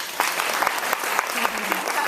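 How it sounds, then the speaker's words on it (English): A lecture audience claps on request, producing a brief burst of scattered, overlapping hand claps with some distinct sharp claps standing out, moderately loud, with voices mixed in. "If you can hear me, clap as many times as you'd like."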